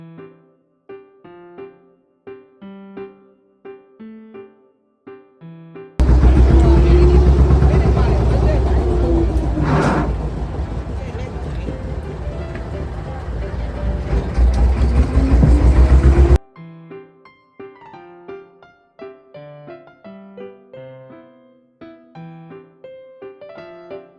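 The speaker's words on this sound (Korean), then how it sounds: "그렇게 시원한 모터 소리와 함께 배는 출발합니다." An old, loud motor boat engine roars on a Mekong River Delta boat tour in Vietnam, a dense, steady drone with a brief swelling whoosh midway, set between quieter stretches of plucked music before and after.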